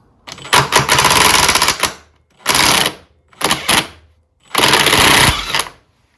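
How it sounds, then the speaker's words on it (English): A tight, buried nut is worked loose on a 1960 Bolens Ride-a-matic riding mower. Four loud, close bursts of rapid mechanical rattling are separated by short silences. "That was quite tight, and the nut is somewhat buried in there. There we go, that's off"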